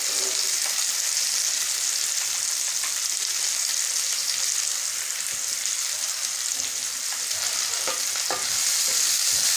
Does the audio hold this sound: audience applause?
no